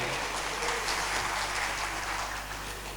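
Audience applause fills a halal bihalal Lebaran gathering of plantation company staff, a dense steady clatter of many hands clapping from start to finish, no voices above it.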